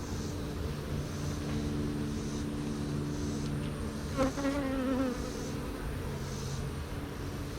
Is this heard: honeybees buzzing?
yes